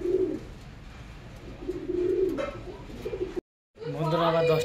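Domestic pigeons coo in low, repeated throaty phrases close by, with a short silent gap before a final louder coo.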